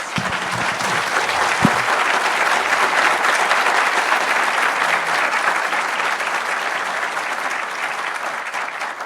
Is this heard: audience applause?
yes